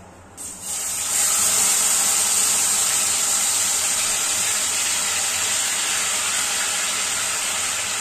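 A sudden loud burst of sizzling as wet ground spice paste hits hot oil with crackled cumin seeds, settling into a strong, continuous hiss that fills the rest of the clip.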